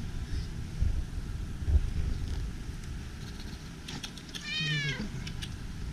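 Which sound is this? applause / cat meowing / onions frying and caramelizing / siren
cat meowing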